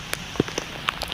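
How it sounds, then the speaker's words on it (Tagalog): Heavy rain falls during a fishing trip in deep water, heard as a quiet scatter of separate, crisp drop hits on a surface over about a second. "lakas ng ulan guys"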